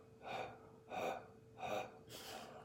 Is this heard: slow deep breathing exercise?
yes